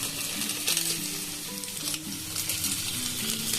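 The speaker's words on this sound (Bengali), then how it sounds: "এটাকে একটুখানি ভেজে নেব একটা সাইডে" Paneer frying with a full packet of Maggi masala and a little oregano in a hot pan, a dense continuous sizzle with stirring scrapes, close and steady throughout with no talk.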